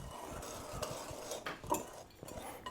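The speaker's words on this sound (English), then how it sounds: "Whisk, whisk." Welsh cakes being mixed in a bowl, a utensil scraping and clinking against the bowl in short, uneven strokes, close and fairly quiet, with no talking.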